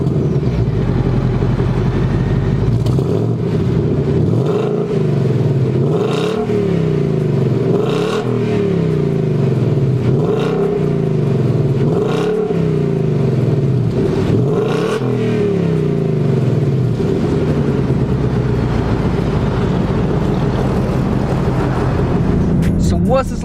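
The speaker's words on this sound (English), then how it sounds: "What's this like driving a 2018 Ford Mustang GT Premium with performance pack?" A 2018 Ford Mustang GT Premium with the 5.0 V8 and performance pack, heard from inside while driving, gives a loud engine roar that rises and falls through repeated rev climbs and gear changes, with a steady drone underneath.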